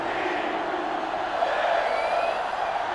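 A sellout stadium crowd in the college football game NCAA Football 2005, during Georgia against Michigan, keeps up a steady, dense roar on a third down, unbroken and loud throughout with no distinct voices.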